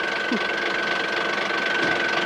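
A rally vehicle's engine runs steadily while reversing on a rough adventure route, a faint, even mechanical hum with a thin whine running through it.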